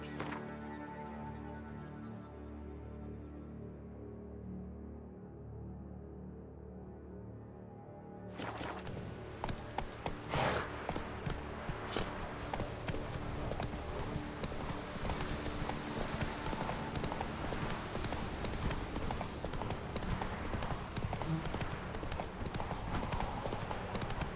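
Roach, the horse in The Witcher 3 video game, clip-clops at a steady rhythmic pace. Hoofbeats start after a quiet, tonal stretch and then continue evenly and close up over ambient game sound.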